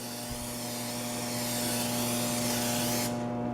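Pam cooking spray hisses onto a pan in one continuous spray while peanut brittle is being made, with a steady electrical hum running underneath until the hiss stops abruptly near the end.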